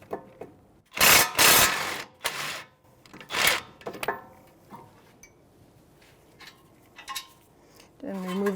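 19mm socket tool loosening the front brake caliper bracket mounting bolts on a 2017-2022 Honda CR-V, heard as several short loud mechanical bursts separated by pauses, followed by lighter metallic handling noises and a brief voice.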